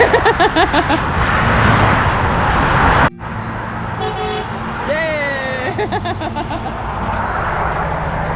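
Passing cars honk their horns beside a busy road near the Appalachian Trail in Maryland, repeated short toots over steady traffic rush, with a sudden cut midway and cheerful voices talking over it.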